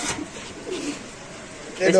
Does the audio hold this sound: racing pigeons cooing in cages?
yes